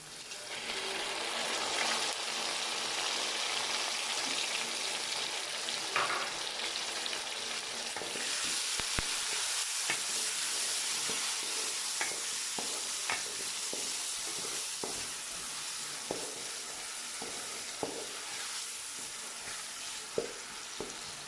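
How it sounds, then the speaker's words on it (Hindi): Tomatoes and green chillies sizzle and fry in a pan for a spicy dhaba-style aloo matar, with a steady broadband hiss broken by repeated scraping stirs of a spoon throughout, close and fairly quiet, no voices. "अब हम इसमें टमाटर और हरी मिर्च जो है वो डाल देंगे।"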